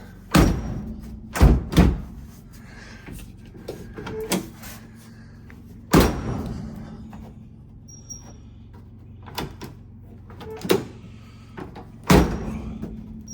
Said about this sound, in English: Let's see if the inner door handle works.